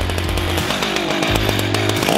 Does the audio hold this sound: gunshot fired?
no